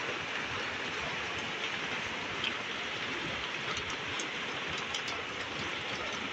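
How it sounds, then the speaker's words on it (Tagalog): Heavy rain pours down steadily, a dense, loud hiss of drops drumming on surfaces with no letup and no voices. "Maulan talaga. Lakas ng ulan, no?"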